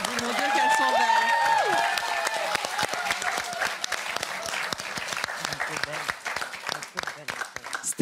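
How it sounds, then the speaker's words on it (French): A studio audience applauds at a Miss Trans pageant on a TV talk show, dense and sustained clapping that starts loud, with a voice briefly heard over it, then gradually thins into scattered claps. "On peut les applaudir."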